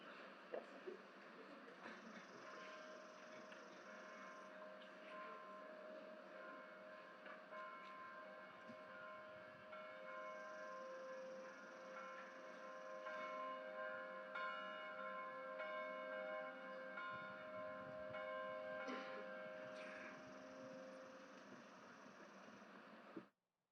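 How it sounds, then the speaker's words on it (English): A bell tolls at a commencement ceremony, sustained ringing tones carrying steadily through a large hall or outdoor venue with faint crowd ambience, the peals layered and continuous for over twenty seconds. "we have a tradition of tolling the bell at commencement"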